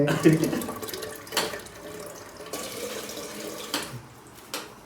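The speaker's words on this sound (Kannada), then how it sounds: "ಅಕ್ಕಿ ತೊಳೆಯಕ್ಕೆ ನೀರು." Tap water runs into a vessel for washing rice in a home kitchen. The flow is uneven, with splashes and brief surges over about five seconds, and people talk nearby.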